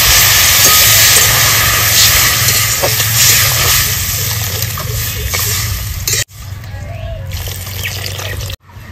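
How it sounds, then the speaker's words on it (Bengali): Water poured into a hot cooking pan of fried shrimp and jute leaves makes a loud, steady sizzling hiss that runs for several seconds, then drops abruptly and settles into a quieter simmer. "এবার দিয়ে দেবো জল।"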